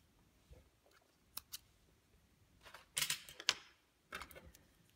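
Scissors snipping leftover yarn from a crocheted amigurumi giraffe piece, a few faint close clicks and then a louder pair of quick cuts in a quiet room.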